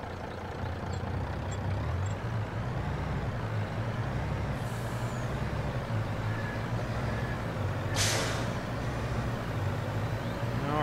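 A truck in the Farming Simulator video game gives a steady, loud engine drone throughout, with a sharp air-brake hiss bursting out near the end and a fainter hiss earlier.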